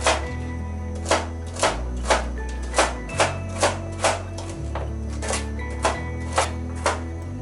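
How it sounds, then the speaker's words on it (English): A knife chops celery into small pieces on a board, a dozen or so crisp, evenly spaced knocks close up over a steady low hum. "Bonnie is first cutting the celery"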